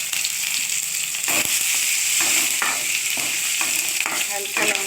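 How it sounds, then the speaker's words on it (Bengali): Bay leaves with green and dry chillies sizzle in hot oil, a loud steady crackling hiss with sharp pops and spits scattered throughout, close by, no talking. "তেল দিয়ে সর্বপ্রথম দিয়ে দেব তেজপাতা, কাঁচা লঙ্কা, শুকনো লঙ্কাটা।"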